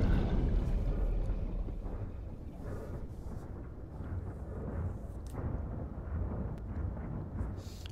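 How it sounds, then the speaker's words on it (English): A torpedo thrown by Father Wales explodes in Bioshock 2, giving a loud, sustained, rumbling roar that stays heavy and dense throughout, like a long blast washing over everything. "Father Wales threw a torpedo at me"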